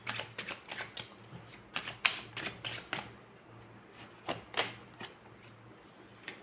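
Tarot cards drawn from a deck during a reading: a quick run of crisp, close clicks and flicks of cards being handled, quieter after a short pause, with no talking.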